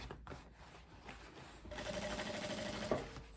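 A sewing machine runs down a faux leather skirt seam, its motor whirring steadily and close, growing louder partway through before easing off.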